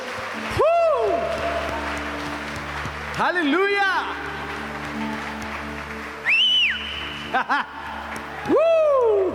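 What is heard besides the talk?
applause for God during worship service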